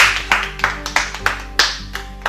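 Several people clapping briefly in a small indoor group after a round of a board game, sharp irregular claps in quick bursts, close and moderately loud.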